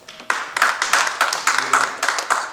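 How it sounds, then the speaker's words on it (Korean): A small audience at a Christian literary association gathering claps to welcome a speaker, a brief patter of steady hand claps in a room. "박수로 맞아주시죠."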